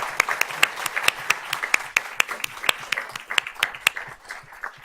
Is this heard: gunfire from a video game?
no